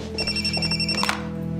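A telephone rings with a steady electronic tone over a low room hum, fairly close and continuous for under two seconds, with no voices.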